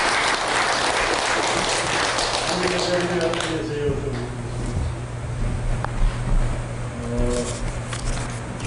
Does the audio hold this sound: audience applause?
yes